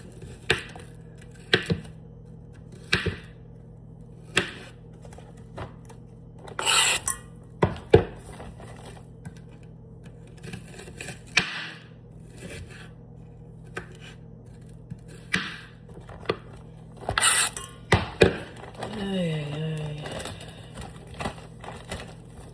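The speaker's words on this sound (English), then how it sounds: "I feel like this is an okay amount of broccoli. Let me cut up a little bit more." A knife chops broccoli on a cutting board in a home kitchen, giving scattered sharp, close knocks in short bursts with pauses between them, plus a few soft scraping sounds near the end.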